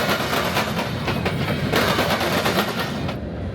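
Empty BNSF coal train racing through a downtown area and clattering across rail diamonds where it crosses a Union Pacific branch line, a loud, continuous rumble broken by rapid rhythmic clacks of the wheels, close by and without voices.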